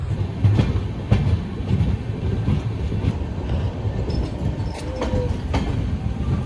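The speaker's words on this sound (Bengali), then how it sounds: "ফাইনালি আমাদের ট্রেন ছেড়ে দিল" Kamrup Express rolling along the rails, a steady rumble of wheels with clickety-clack joints and occasional faint squeals, continuous and close, no voices.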